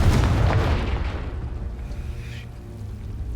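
Confringo explosive spell in the game Hogwarts Legacy, a loud booming blast at the start that rolls off into a rumbling decay, with a faint crackle trailing behind.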